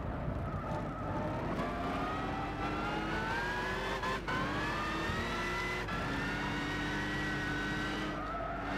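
Historic racing cars in Gran Turismo 6, a continuous high engine whine rising and falling through gear changes, with a tyre squeal and a brief dip in revs, loud and close throughout.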